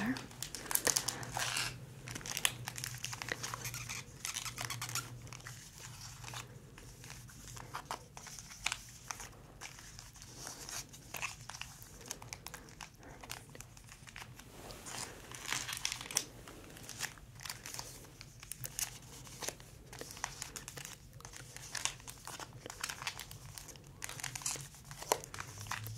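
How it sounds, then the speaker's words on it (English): Pokémon Brilliant Stars booster packs are shuffled together, giving a steady run of crinkling foil wrappers with soft crunchy rustles up close. Quiet speech is heard now and then among the crinkles. "I'm going to shuffle our remainder of packs together"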